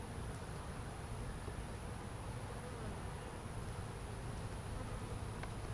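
Honeybees hum steadily during a top bar hive inspection, a dense, close, continuous buzz of many insects with faint rustling underneath.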